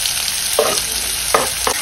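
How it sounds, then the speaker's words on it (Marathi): Chopped onion fries in hot oil with mustard seeds and cumin, a steady close sizzle broken by a few scraping stirs. "आणि कांदा छान लालसर रंगावर परतून घ्यायचा."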